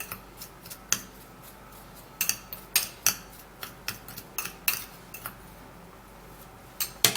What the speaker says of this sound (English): baking soda, which is bicarbonate of soda, and dry stir it first